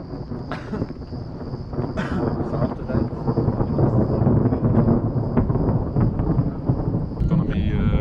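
Low rolling thunder from a thunderstorm rumbles continuously, close and heavy, with a faint steady high whine above and occasional crackles.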